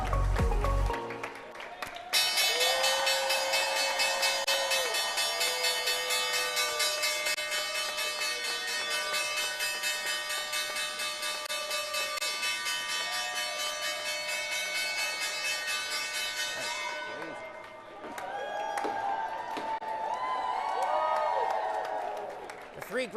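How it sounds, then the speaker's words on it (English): The bell rings at the New York Stock Exchange as a long, loud, steady ringing tone that runs for about fifteen seconds, then a crowd cheers and claps as it stops. "We'll let the team from WLDA here now ring the bell to do the honors."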